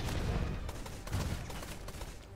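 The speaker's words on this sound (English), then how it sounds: "Okay, fire the big cannon." Heavy booming cannon blasts and rumbling gunfire in the naval video game Blazing Sails roll on continuously, with dense overlapping explosions and no pause.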